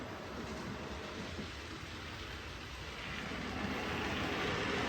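A steady rolling rumble of a DCC-controlled model train running along its track, continuous and close, with a faint rhythmic clatter and no talking.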